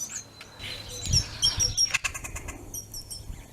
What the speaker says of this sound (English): There's one of them birds.